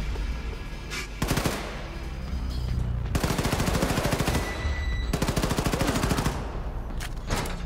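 Automatic weapon fire in the shooter game Wolfenstein II comes in rapid sustained bursts, with loud rattling volleys separated by short pauses and a few single shots near the end.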